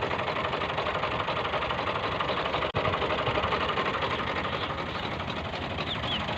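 A rotavator runs in a sugarcane field with a steady, loud mechanical engine drone and churning rattle, continuous throughout with one brief sharp click midway.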